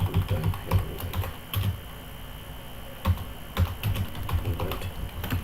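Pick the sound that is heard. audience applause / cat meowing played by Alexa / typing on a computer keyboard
typing on a computer keyboard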